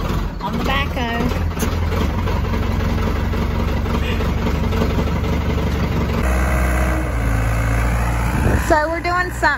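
A backhoe's diesel engine runs at a steady, loud idle-level rumble throughout, with a voice speaking over it for most of the stretch.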